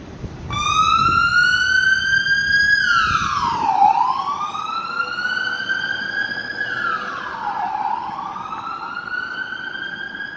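A loud police siren wails continuously, sweeping up and down in pitch as the vehicle passes close by, with traffic rumble underneath, in downtown Toronto.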